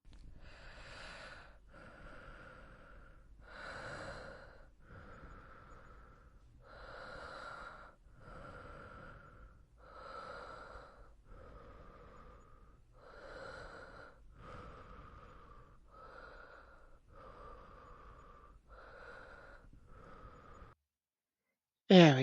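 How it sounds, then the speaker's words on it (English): Slow, deep breaths repeat in a steady rhythm, close and soft, alternating long inhales and exhales over about twenty seconds, ending with a sudden short noise. "Breathe with me."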